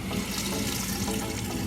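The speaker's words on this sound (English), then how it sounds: "Okay, so I like the water a little warm." Warm water runs from a tap for hand washing, a steady, full splashing stream close by and uninterrupted, with no talking.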